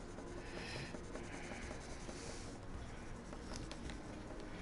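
A pencil scratches and rubs across paper while palm trees are sketched, a quiet close-up scribbling with short strokes and soft patter in an otherwise still room, no voices.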